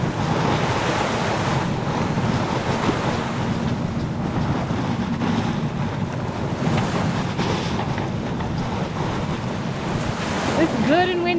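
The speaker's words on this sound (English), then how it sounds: "It's good and windy here, folks." Wind buffets the microphone over a constant wash of waves and surf along an Alaskan shore, loud and unbroken, with a brief high whine near the end.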